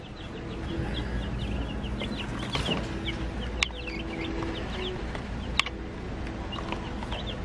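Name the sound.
small chicks chirping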